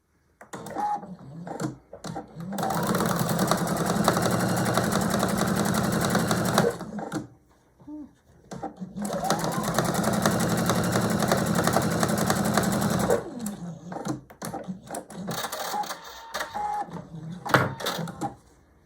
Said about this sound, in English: I'm just going to sew the 1/4 inch